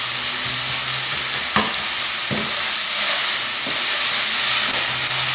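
Onions browning in a frying pan give a steady, loud sizzle with a few brief stirring scrapes, and no voices over it.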